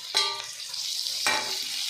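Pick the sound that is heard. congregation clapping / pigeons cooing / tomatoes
tomatoes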